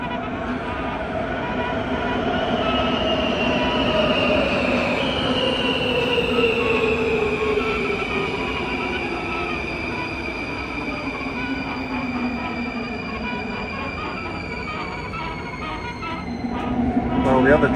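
A Skoda-built Warsaw Metro M2 train runs steadily, with a continuous rolling rumble under a whining motor tone that slowly falls in pitch, plus faint wheel squeal, lasting throughout at close range.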